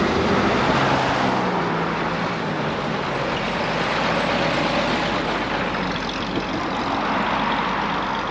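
A restored 1934 Chevrolet 1-1/2 ton stakebed truck's engine rumbles steadily while driving, with continuous road and wind noise close by, loud and unbroken.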